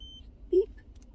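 Car seat alarm in a van gives a single short electronic beep, moderately loud, against a quiet low background hum.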